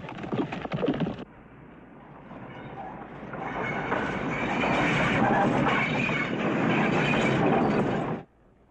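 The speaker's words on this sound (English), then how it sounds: "Train." A train rumbles past close by, a brief noisy burst then a rising, sustained rolling clatter of wheels on rails that cuts off abruptly.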